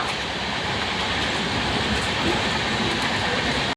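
The Jan Shatabdi Express (train 12022), running from Ghatshila to Howrah, gives a loud, continuous rumble and rattle heard from inside the carriage, with a steady roar that holds unbroken throughout.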